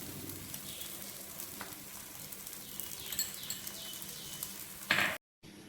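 Oil sizzling on a hot pan while wheat dosa cooks: a soft, continuous frying hiss with small crackles and pops, quiet and close, ending in a brief louder spatter before going silent.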